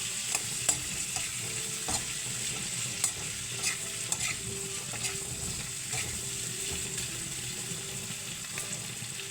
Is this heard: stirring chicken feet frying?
yes